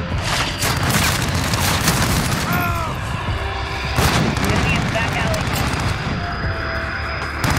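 Oden assault rifle gunfire in the Modern Warfare multiplayer shooter, dense bursts and booming shots from several weapons over a continuous battle din, with a player talking over it.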